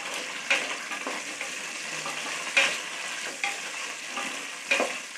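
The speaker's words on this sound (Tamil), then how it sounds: "வெங்காயம் வந்து நல்லா வதங்கிட்டங்க" Small onions and curry leaves sauté in hot oil for sambar rice, giving a constant close sizzle with a few distinct scraping stirs at irregular intervals, no voices over it.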